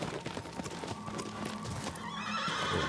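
Horse in the video game Shadow of the Colossus: a brief run of clip-clopping hooves followed by a clear neigh, moderately close and fairly quiet, with no talk.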